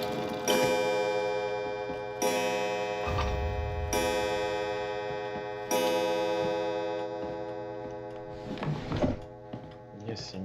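Pendulum clock in the video game Resident Evil 7 strikes a series of loud, ringing chimes with long decaying tones, separated by pauses, with a low thud and some rustling near the end.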